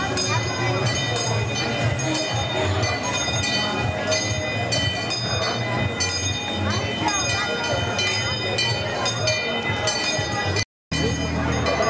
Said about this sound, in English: Oh, Jayden about to ride that train in a few.